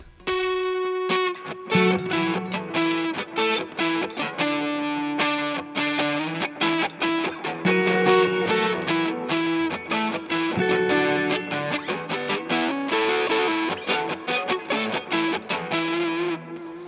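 An overdriven electric guitar plays a steady melodic line with a wash of reverb, loud and continuous, with no voices.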